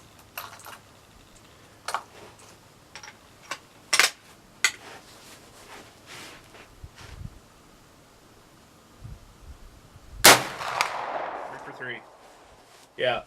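A US Model 1884 Trapdoor Springfield rifle fires one sharp, loud report that rings out briefly outdoors on a range, following a series of scattered clicks and handling taps.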